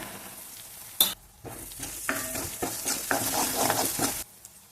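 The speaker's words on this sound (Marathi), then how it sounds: "तर बघा लसूण आणि मिरची सुद्धा छान परतली आहे" Garlic and green chillies sauté in hot oil in a pan for a fenugreek curry: a loud, continuous close sizzle broken by stirring scrapes and a sharp clack near the start, then cutting off abruptly at the end.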